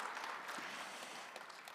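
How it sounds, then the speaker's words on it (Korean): A forum audience applauds at the close of a discussion session, a faint, steady patter of many hands continuing throughout. "다시 한번 큰 박수 부탁드리겠습니다."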